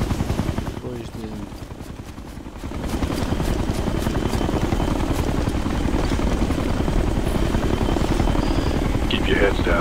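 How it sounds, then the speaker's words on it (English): An enemy helicopter in the video game Ghost Recon flies nearby, with a steady loud rotor thrum and engine drone that swells after a brief dip and continues throughout, with game sounds mixed in. "Got an enemy chopper here."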